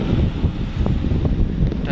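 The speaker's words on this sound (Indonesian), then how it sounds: "Dan di sini anginnya cukup kencang barusan." Strong wind buffets the microphone on the slopes of Mount Semeru after an eruption, a steady low roaring rush with gusty surges lasting throughout, loud and close.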